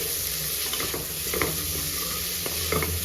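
Double beans and vegetables frying in a pressure cooker, a continuous close sizzle with occasional scraping stirs, steady and alone with no voices.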